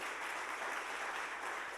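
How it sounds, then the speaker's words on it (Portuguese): A church congregation applauding steadily during a sermon, a dense wash of clapping hands that holds at an even level throughout with no voices. "Vale uma salva de palmas para Jesus."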